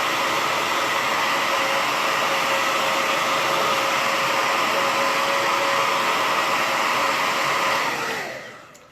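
A hair dryer blows steadily and loudly up close while drying PVA metallic paint on a round pallet piece, then winds down and cuts off at the end.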